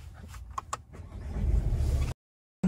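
A 2020 Mercedes A-Class with the AMG pack starts up from inside the cabin: a couple of clicks, then the starter whirs and the engine catches and settles into a rising idle before the sound cuts off.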